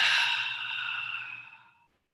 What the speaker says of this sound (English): taking a gentle inhale and exhale